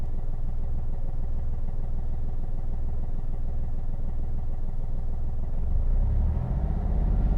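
A car engine runs steadily with the accelerator pressed smoothly, a close, loud rumbling drone that holds a constant pitch before rising near the end as revs climb.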